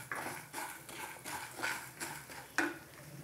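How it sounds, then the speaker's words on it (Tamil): Coriander seeds are tipped into a pan of roasting dal and stirred, giving soft, repeated rattling and scraping bursts about every half second, fairly quiet and close. "மல்லியை சேர்த்துட்றேன்."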